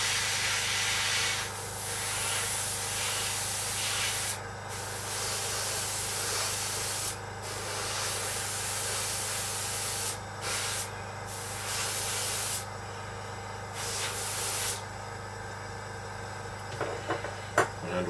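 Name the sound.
spraying a heavy initial paint coat on a model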